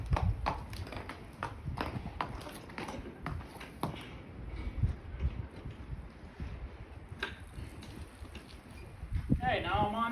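Horse hooves clip-clop and tap irregularly on the ground as the horse is tied up during grooming, mixed with scattered knocks and handling noises.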